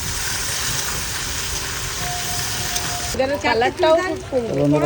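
Potato pieces dropped into hot oil for a Bengali fish curry give a steady, loud broadband sizzle, joined by a voice talking over it in the last couple of seconds.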